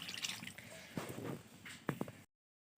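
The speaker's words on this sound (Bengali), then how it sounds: "আমি এবার এই যে জল ঢেলে দিলাম" Water poured into a pot of chicken curry that has been fried down with coriander leaves until the oil separates, a short liquid splash and dribble close by, ending in sudden silence.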